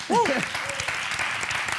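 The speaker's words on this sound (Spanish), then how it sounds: "pido un fuerte aplauso para el consultorio de Andrés Llena" Applause from a live audience at an interview event, a short steady patter of clapping with a brief vocal exclamation or whistle-like tone over it at the start.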